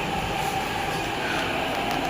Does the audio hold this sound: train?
yes